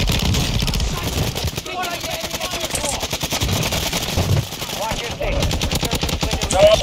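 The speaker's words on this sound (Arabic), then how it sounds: "مين اللي بيضرب من على يميني؟" Rapid gunfire rattles through a Call of Duty Warzone match on Ashika Island, bursts running almost constantly at moderate distance while players talk over it.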